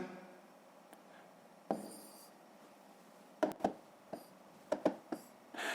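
Quiet scratchy pen strokes and taps of numbers being handwritten for a long division exercise, a few short scribbles spaced out over near silence, close and faint.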